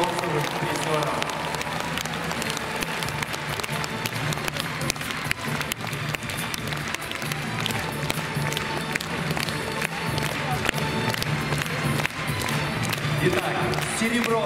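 Sustained arena applause for bronze medalists at a figure skating exhibition show, a dense crowd clapping under an announcer's voice and music that continues steadily throughout.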